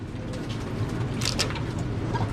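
Pigeons cooing in a loft, soft low throaty coos repeating close by under a constant hum, with a brief flutter or scrape partway through and no talk.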